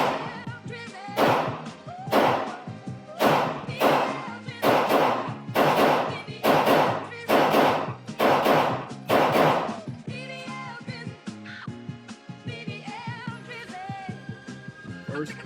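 Gunfire from a PSA Sabre rifle at an outdoor shooting range: about eight loud, sharp shots in a steady rhythm, each with a short ringing tail, then quieter handling noises.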